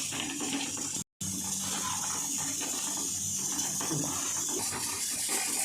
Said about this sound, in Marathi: पाणी थोडं थोडं करून टाकून घ्यायचं लागेल तसं